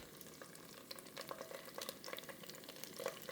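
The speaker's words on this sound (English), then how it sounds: "So you're gonna wanna fry that tomato paste out." Tomato paste sizzling and crackling in a hot pan over medium-high heat, with small scattered pops and faint stirring scrapes, close up with no talking.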